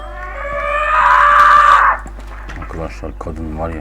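The mother character in the video game Schoolboy Runaway lets out a long, loud, sustained scream, followed by someone talking.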